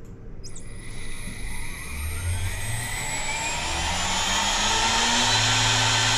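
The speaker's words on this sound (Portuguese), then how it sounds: "Então o primeiro passo aqui é a gente ligar o spindle." The spindle of a CNC milling machine starts up and spins, a rising high-pitched whine that builds over a few seconds into a steady, loud hum.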